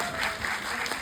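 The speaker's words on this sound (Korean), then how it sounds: "박수" A short burst of audience applause during a film screening Q&A event, scattered clapping from the crowd heard for about a second, moderately loud with a faint tone in the background.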